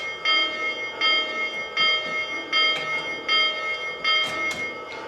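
A model train's electronic bell sound effect strikes in a steady repeating rhythm, bright and ringing, each clang sustaining briefly before the next, close and fairly loud with no talking.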